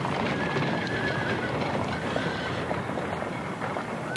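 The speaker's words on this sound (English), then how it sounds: "the horse took fright and bolted down the road with the man inside the caravan" Staged audio-drama effect of a horse bolting down a road pulling a caravan, with steady galloping hooves and rumbling wheels filling the whole stretch at close, even loudness.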